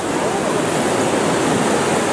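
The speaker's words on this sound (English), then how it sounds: "I think it's just big waves." High water on the Lobstick River churns into big waves, a loud, dense roar of rushing water with no break, heard close and alone.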